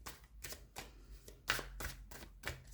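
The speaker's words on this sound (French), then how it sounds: "Je vais tirer une autre carte." A tarot card drawn from a deck, heard as a series of soft papery slides and flicks in irregular bursts, close and quiet, with no voices.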